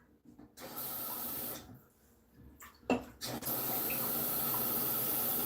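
Water runs from a tap into a cup for a pet, starting in short bursts with a few clinks, then settling into a steady, loud rushing stream.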